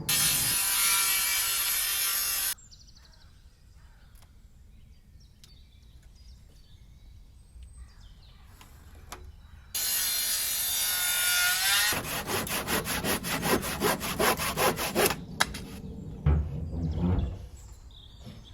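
A timber roof joint is hand-worked in an old workshop: two bursts of rasping saw strokes come near and loud, with a quiet pause between, then quick rhythmic cuts and a few chisel knocks.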